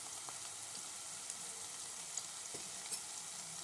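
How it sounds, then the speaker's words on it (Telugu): Fenugreek leaves frying in a tempering of sautéed onion for a bottle gourd and tamarind curry, a faint steady sizzle of hot oil with a few soft clicks, no voices. "ఇందులో కొంచెం మెంతాకు పోపులో."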